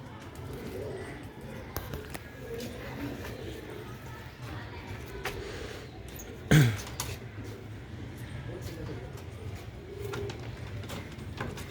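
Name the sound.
pigeons cooing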